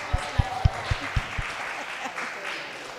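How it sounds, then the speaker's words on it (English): An audience at a Brooklyn community board meeting in East New York gives a short burst of applause, a few distinct claps fading into room murmur and talk. "Let's clap for that."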